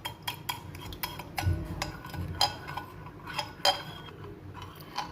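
A spoon or whisk clinks against a bowl while eggs and sugar are mixed for a bread pudding. Irregular metallic taps and scrapes repeat several times, close and clear, with no talking.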